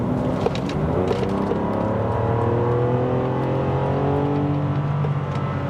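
A car accelerates hard out of a corner on the Nurburgring, its loud engine note rising steadily through the revs in a continuous close drone, with no talk.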